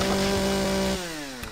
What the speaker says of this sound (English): So we'll go ahead and use our handy chainsaw that we crafted.